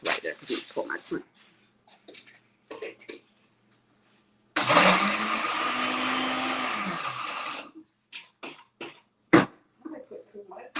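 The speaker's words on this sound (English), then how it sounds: "I'm going to place this into my blender." A kitchen blender whirs loudly for about three seconds as it blends strawberry crunch topping, running alone before it stops, with a person talking before and after.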